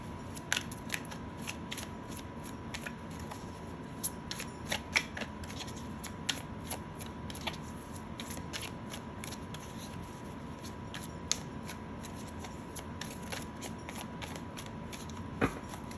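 A deck of tarot cards is shuffled over and over in a quiet room, with soft riffling and sharp snapping clicks repeating in a loose rhythm throughout.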